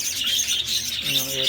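Pet parakeets chatter and squawk in a hot outdoor aviary, a steady stream of bright, overlapping chirps throughout, with a low voice murmuring underneath toward the end.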